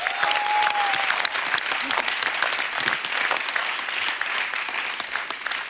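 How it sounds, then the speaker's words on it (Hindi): A studio audience at a TV comedy show gives loud, sustained applause that stays full and dense from start to finish. A brief whistle-like tone rises over it at the start. "एक बार जोरदार तालियां होनी चाहिए।"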